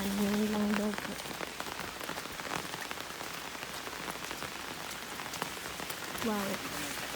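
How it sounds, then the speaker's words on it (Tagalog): Rain patters steadily on surfaces in the countryside, a dense close hiss of drops, with short bursts of voices or calls at the start and near the end. "Medyo maulan na po ngayon."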